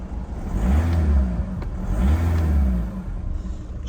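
A diesel VW Scirocco engine revving twice, each rev swelling and falling back in a deep, close, rising-and-falling drone with no talk over it.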